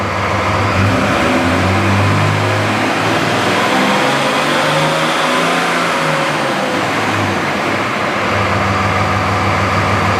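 A diesel engine fitted with a fuel converter idles inside a garage, a steady loud rumbling drone with a slight rise and fall in its beat.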